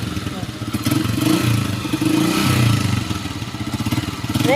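Hero Deluxe 125 motorcycle engine revving steadily up close with a mid-pitched throb, its level rising and falling slightly, alongside faint clattering from the bike during rectifier repair work.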